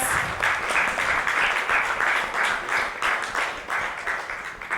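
An audience at a supply chain summit panel claps steadily and fairly loudly, with dense, continuous applause and no voices over it.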